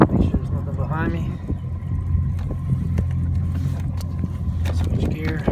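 A boat engine runs steadily and loudly as the boat backs away from the dock on its first trip of the year. Wind and water noise sit beneath it, and there are a few brief faint sounds.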